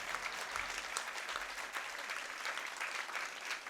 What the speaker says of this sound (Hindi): बजा लो अपने लिए ताली।